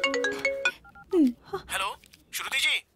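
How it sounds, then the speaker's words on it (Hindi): A short electronic phone tone chirps briefly between bursts of voices, with other sounds close by. "उसका फोन आ रहा है।"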